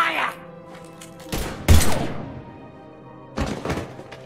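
Gunfire in the video game Mass Effect 3: a few loud, sharp broadband bursts, with a heavy volley around the middle and another shot near the end, set over a low game background.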